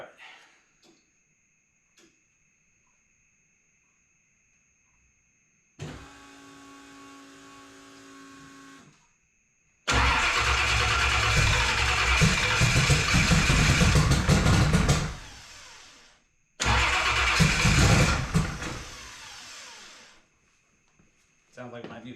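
A car engine fitted with a Dominator carburetor turning over, first a steady cranking drone, then loud roaring bursts as it catches and runs briefly before cutting out, with a faint ticking in the quiet gaps.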